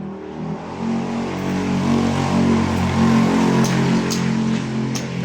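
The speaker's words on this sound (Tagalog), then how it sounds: "Pero pati yung mga tricycle po maririnig nyo rin po." Motorized tricycles passing on a street, a loud continuous engine drone and rumble that swells slightly as they go by, close and without talk.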